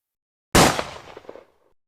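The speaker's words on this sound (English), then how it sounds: "A gunshot tore through the night." A single loud gunshot cracks out at night, breaking a silent pause with a sharp blast that fades into a short, rumbling echo tail, with nothing else heard.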